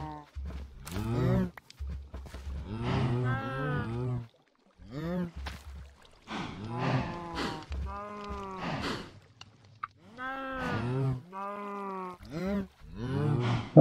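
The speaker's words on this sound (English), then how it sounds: "Stupid baby cows, grow up!" Cartoonish baby cows in a farming video game moo repeatedly, their bleating calls coming in close, loud bursts with brief gaps between.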